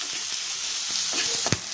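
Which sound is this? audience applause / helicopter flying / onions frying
onions frying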